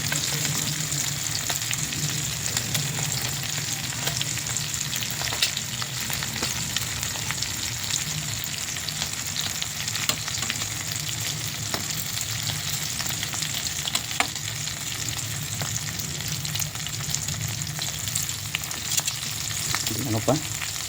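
Dried tuyo fish frying in a pan for a quick breakfast, giving a steady, dense sizzle and crackle that runs unbroken from start to finish with no voices.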